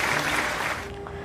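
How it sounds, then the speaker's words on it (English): A brief burst of applause for teachers and parents at a virtual elementary school graduation ceremony, a broad wash of clapping that holds for under a second, then drops away quickly. "join me in giving them a round of applause"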